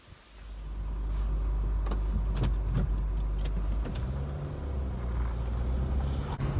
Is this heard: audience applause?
no